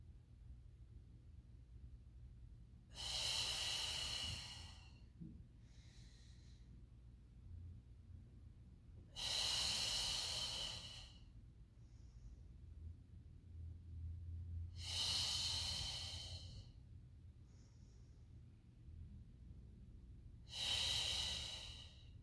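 Slow, deliberate breaths during a Pilates mat class, four loud breathy bursts spaced several seconds apart, close and clear over a quiet room with no talk.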